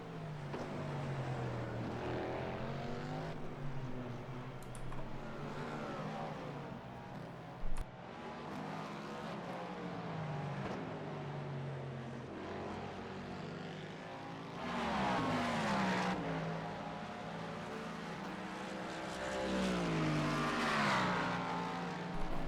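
GT3 race cars in an IMSA racing video game roar steadily, engines droning and shifting pitch as they rev and accelerate, with louder surges toward the end as a car closes in on others.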